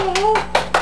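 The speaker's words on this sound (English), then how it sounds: "Clap your hands, Asiya, so he'll clap his hands." A child claps hands three times in quick succession, close and crisp, right after a brief voiced sound.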